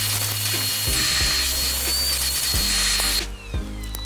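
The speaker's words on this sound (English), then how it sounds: "So I'm gonna go ahead and mark my holes and drill them out." A power drill bores holes in a jon boat's hatch lid, its high whine running steadily at close range with brief pauses and restarts between holes.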